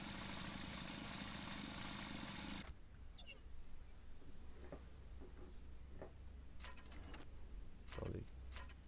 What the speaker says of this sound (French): J'ai pris la tronçonneuse?